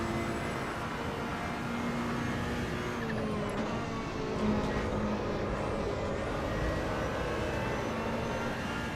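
A race car engine in the Assetto Corsa Evo driving game holds a loud, steady roar for the whole stretch, with faint tyre noise and no talking.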